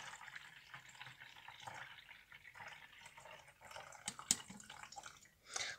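Water pours steadily from a jug through a small funnel with a trickling, splashing stream, a few brief clinks near the end, no voices.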